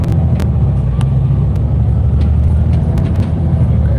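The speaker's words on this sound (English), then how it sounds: "These container trucks are moving in the direction of Pasir Panjang Port, Keppel Port" Container trucks heading toward Pasir Panjang and Keppel Port in Singapore rumble past. The low engine drone is loud and continuous, and a few brief higher clicks sit on top of it.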